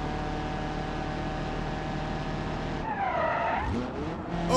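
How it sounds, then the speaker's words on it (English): A car slides on its brakes in a video game, its tires skidding with a rising and falling squeal over a steady engine drone, loud and close, with no talk. "he's sliding on his brakes"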